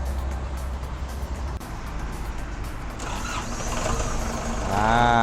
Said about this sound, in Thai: เครื่องก็สตาร์ทติดง่ายนะครับคันนี้